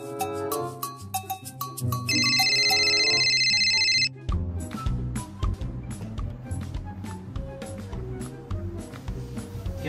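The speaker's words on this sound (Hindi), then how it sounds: "इतनी देर से तुम्हारा फोन बज रहा है" A mobile phone ringtone plays at home, a steady electronic tone that rings for a couple of seconds over music and continues ringing in a repeating pattern.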